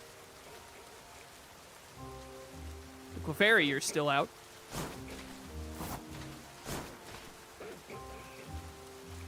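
Rain in the Pokemon Legends: Z-A video game, a soft steady patter beneath game music tones and creature cries, with a player talking over it.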